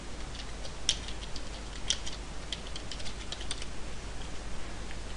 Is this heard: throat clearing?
no